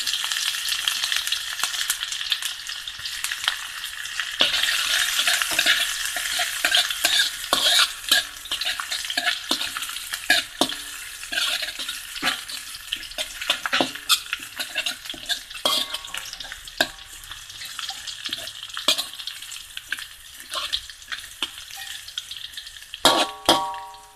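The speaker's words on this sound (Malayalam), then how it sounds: "ഇനി നമ്മൾക്ക് ചെയ്യാനുള്ളത് കുറച്ച് എണ്ണയിൽ ഇഞ്ചി വെളുത്തുള്ളി ഒന്ന് മൂപ്പിച്ചെടുക്കുക" Ginger and garlic fry in oil for egg manchurian, a continuous sizzling hiss broken by frequent scrapes and clinks of stirring, close and fairly loud throughout, with no talking.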